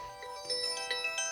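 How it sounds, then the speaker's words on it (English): A mobile phone ringtone sounds faintly, playing a short series of bright, bell-like melodic tones in a quiet room. No one speaks over it. "No, that was my phone."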